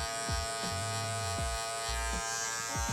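An electric hair clipper trims a faded beard, its steady high buzz broken by repeated short strokes that drop in pitch as the blade cuts. It sounds close and continuous, with no talking.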